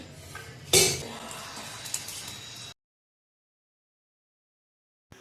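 Dishes and cutlery clatter close by with a sharp clink early on, then everything drops to silence before a brief sound at the end.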